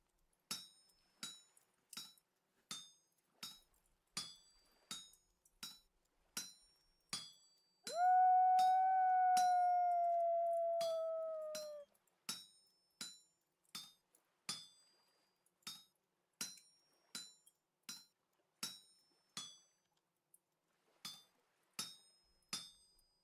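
Metal is hammered at an anvil during smithing in the video game Vintage Story. Steady, evenly spaced clinking strikes repeat throughout, with a sustained tonal sound partway through. The scene is quiet and there is no talking.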